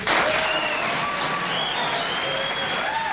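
A studio audience at a late-night television taping breaks into loud, steady applause, a dense continuous clatter of many hands filling the room, with some faint cheering tones riding on top.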